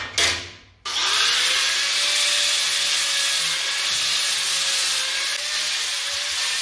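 An angle grinder works metal edges on off-road truck armor parts for a 1st gen Tacoma or 3rd gen 4Runner, cleaning them before welding. After a brief opening burst, a loud steady high whine holds close and continuous.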